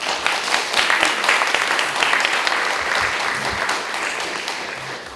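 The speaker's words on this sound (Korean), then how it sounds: "큰 박수 부탁드립니다." At an awards ceremony, an audience gives a warm, full round of applause, a dense, even wash of many hands clapping that holds steady for several seconds and tapers slightly at the end.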